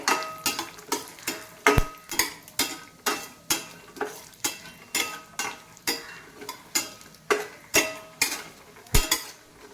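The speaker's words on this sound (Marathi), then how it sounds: "यामध्ये मी शेंगदाणे टाकून घेते। शेंगदाणे सुद्धा यामध्ये परतून घ्यायचे।" Peanuts roasting with coconut in a pan, stirred in a steady rhythmic series of sharp scraping strokes about twice a second, close and dry, with faint frying underneath and no voices.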